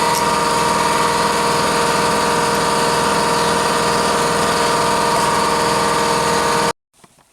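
An air compressor runs steadily and loudly beside a Ford/Mercury Contour, Focus or Mystique rear subframe job, a constant mechanical drone that continues unbroken and then cuts off abruptly near the end.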